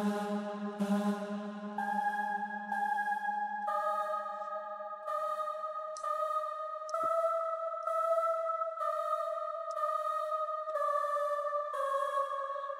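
A PreSonus short "ha" percussive choir preset plays in an orchestral-style music demo: a row of punchy, synthetic choral hits with sustained vocal chords stepping through changes, evenly paced and alone.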